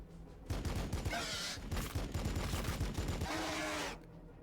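Sustained gunfire from a squad in Warhammer 40k: Battlesector, a turn-based battle against a Tyrannofax: dense, rapid bursts of shots rattle loudly for several seconds, then cut off abruptly.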